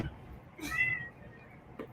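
A single short cat meow rises briefly indoors amid faint household background, with soft voices nearby and a small click near the end.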